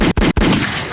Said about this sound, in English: Shoot the gunshots.